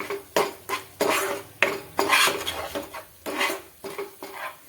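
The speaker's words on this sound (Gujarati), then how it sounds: "બધી વસ્તુને સારી રીતે મિક્સ કરી દઈએ" A spoon scrapes and stirs turmeric, asafoetida and salt through chili in a metal pan while making garlic sev mamra: about eight rhythmic scraping strokes, close and clear, with no talking.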